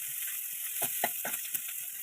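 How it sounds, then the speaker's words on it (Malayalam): Chopped garlic sizzling in hot oil for a Kerala fish curry, with a steady frying hiss and several scraping stirs of a spoon in the pan, close and fairly quiet. "ഇനി നമ്മൾ അതിലേക്ക് നമ്മൾ അരിഞ്ഞ് വെച്ചിരിക്കുന്ന വെളുത്തുള്ളി ഇട്ട് കൊടുത്തു."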